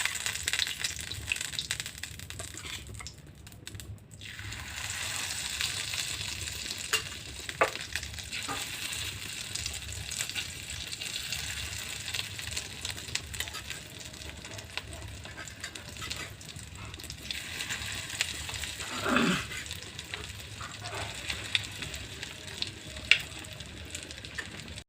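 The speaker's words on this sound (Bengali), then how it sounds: "এইভাবে আমি সবগুলোকে ভেজে নেব।" Fish pieces deep-frying in hot oil in a wok for chilli fish, giving a steady, crackling sizzle that runs throughout with occasional scrapes and clinks of a utensil.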